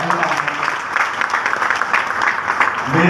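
An audience at a business seminar applauds, producing continuous, fairly loud clapping throughout, with a voice carrying over the top.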